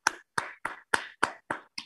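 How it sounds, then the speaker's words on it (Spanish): A preschool class hears seven sharp, evenly spaced claps, close and crisp with short gaps between them, and no talking. "Aplausos a Mía"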